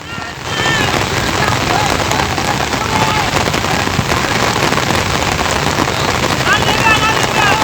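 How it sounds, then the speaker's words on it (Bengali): Heavy rain pours onto a waterlogged football field during a match, a loud, dense, continuous hiss with faint voices in the background. "প্রচণ্ড বৃষ্টি পড়ছে, আমরা তারই মধ্যে ভিডিও করছি"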